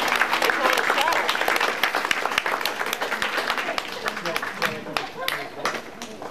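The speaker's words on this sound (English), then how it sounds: "Let's give our actors a big round of applause," Audience applause for actors after a staged gunfight show at an amusement park, crowd clapping loud at first then thinning out, with voices talking and calling over it toward the end.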